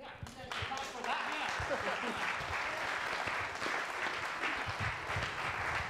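A crowd of students applauds at a 2014 EST orientation session, steady dense clapping that carries on for several seconds at moderate distance after an initial speaking voice.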